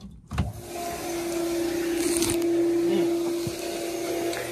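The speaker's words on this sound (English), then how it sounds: "Condensate pump." A condensate pump in a heat pump air handler starts after a sharp clunk and runs with a steady motor whine and hum, with a few knocks partway through, moderately close.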